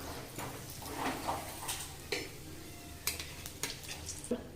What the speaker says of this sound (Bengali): তেল গরম হয়ে গেছে ফোড়ন জন্য নিয়েছি সামান্য কালো জিরে একটা শুকনো লঙ্কা